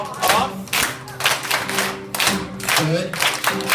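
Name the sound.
audience hands clapping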